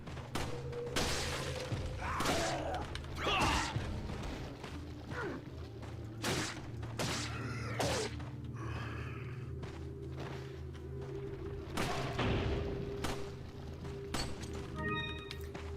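Gunshots ring out in Resident Evil 4, a string of sharp, separate reports spaced irregularly over a low ambient hum, with mechanical clicks and thuds between them.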